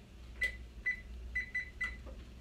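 An oven's control panel beeps while being set to preheat for cornbread: five short, bright electronic beeps in an uneven sequence, close and fairly clear over a quiet kitchen background.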